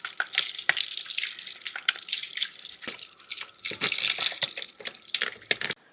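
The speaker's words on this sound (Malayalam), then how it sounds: "ആ ഫിൽറ്ററിനെ നമുക്ക് അഴിച്ച് കഴുകണം" Water runs steadily from a tap as a washing machine's detergent filter is rinsed under it, splashing and spattering with small knocks and clatters of the plastic part, continuous and close, then stopping abruptly at the end.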